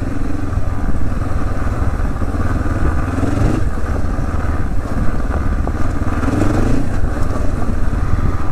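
A KTM motorcycle engine drones steadily and fairly loudly while riding outdoors, with slight throttle swells and rough road clatter and no pauses.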